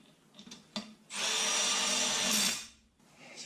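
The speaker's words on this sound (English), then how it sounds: "I'm going to run them up with my little baby impact." A small impact driver runs 1/2 inch studs into a 9 inch rear end housing on an 82-92 Camaro/Firebird, giving one steady, loud buzzing burst of about a second and a half after a few light clanks, then stopping.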